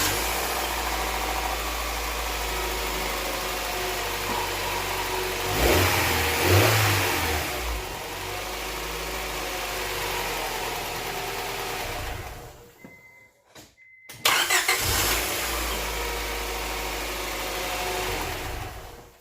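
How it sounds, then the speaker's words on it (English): A Honda Prelude 2.2L engine runs steadily near the microphone, revving up around six seconds, cutting out briefly near thirteen seconds, then firing back up into an even idle. "okay, we're gonna start the vehicle now."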